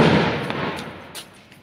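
Firecrackers burst outdoors during a Govardhan Puja celebration, with one loud broadband blast at the start, its noise decaying over the next second, then a few faint pops and crackles further off.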